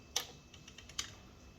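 Pressing the record button on a CD-R audio recorder gives two crisp, close plastic clicks about a second apart, with faint lighter ticks between them in a quiet room.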